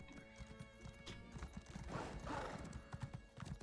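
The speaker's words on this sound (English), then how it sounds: "My horse is out of stamina." Horse hooves clip-clop at a gallop in the fantasy video game Elder Scrolls Online, a quiet rhythmic pattern of steady hoofbeats with a brief whinny partway through.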